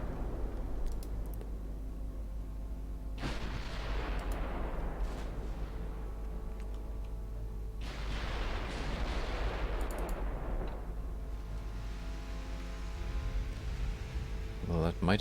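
Heavy cruiser firing its 8.8 inch naval guns in the Ultimate Admiral Dreadnoughts naval warfare game: a few deep, booming salvos spaced several seconds apart over steady battle rumble, with someone talking throughout.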